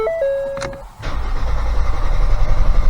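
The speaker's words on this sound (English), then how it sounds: "So what you can do is foot to the floor on the accelerator." A short electronic chime sounds, then a Ford Escape engine cranks with the accelerator floored to prime the oil. The cranking is a steady, low, rhythmic churning that continues close up and fairly loud.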